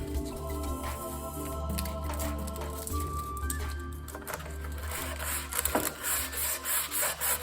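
Coarse 60 grit sandpaper rubs back and forth on a wing tip nav light support during a Zenith CH 750 Cruzer kit aircraft build, with a steady scratchy grind that gets choppier and more rhythmic toward the end.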